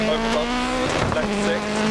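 Rally car in the video game Dirt Rally idling and revving with a steady droning engine note at a Wales stage start, with a brief rough burst in the middle, heard up close and continuous.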